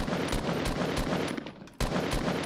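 Rapid automatic gunfire from the Fortnite video game, fired in a jump-and-crouch shooting move, with close, loud bursts running almost continuously and a brief break near the end before firing resumes.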